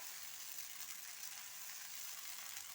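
Wheat dosa batter sizzles steadily on a hot pan greased with ghee, a continuous close, bright frying hiss with no pauses and no talk.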